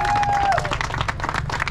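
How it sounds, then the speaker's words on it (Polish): Crowd applause for the podium finishers of a Polish rally, the Rajd Nyski, with dense clapping and some cheering under a loudspeaker announcer's voice and a brief whistle-like tone near the start. "Wielkie brawa!"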